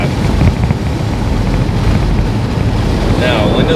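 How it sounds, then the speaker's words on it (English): Steady broadband wind drone fills the cabin of a 1992 C4 Corvette cruising at 55 mph, a continuous low rumble with airy rushing that holds level throughout, no voices over it. "that wasn't exhaust drone, that was just wind vibration, wind drone in here"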